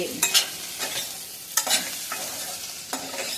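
Ivy gourd and potato pieces frying in a pan, with repeated scraping stirs of a spatula over a steady background sizzle, close and fairly loud, no talking.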